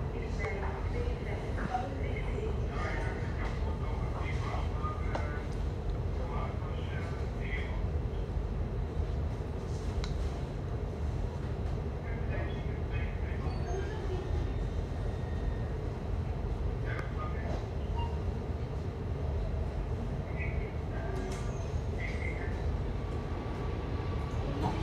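An Amsterdam metro line 52 train rides the Noord/Zuidlijn toward Zuid with a continuous low, even rumble, faint and steady, and murmuring voices in the background.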